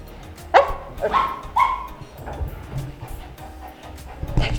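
A voice imitates a dog at an acting audition, giving a few sharp barks and yips amid background noise, with a short pause between them.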